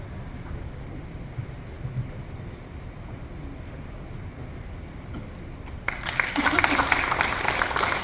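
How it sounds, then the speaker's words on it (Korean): Audience applause rising near the end, greeting the vice president of the Gyeongbuk cultural federation as he comes up to give opening remarks at a scholarly presentation in Gimcheon, after a stretch of low room noise. "박수로 모시겠습니다."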